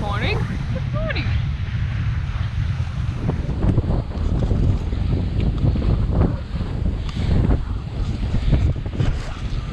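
Strong 25-knot wind buffets a sailboat heading toward a marina, a steady loud roar of gusts and microphone wind noise with water washing against the hull, while people's voices come through faintly underneath.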